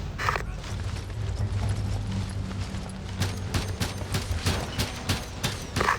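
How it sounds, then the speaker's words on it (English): Hostile gunfire in a Ghost Recon tactical shooter, heard as scattered sharp cracks and rattling shots over a low mechanical hum, growing denser toward the end. "Captain, taking hostile fire!"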